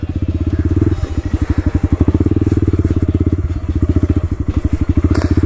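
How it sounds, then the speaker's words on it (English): Pit bike motorcycle riding, its small engine putting out a loud, steady, close rapid thump that rises and falls slightly as the rider moves along. "This is where I take the pit bike."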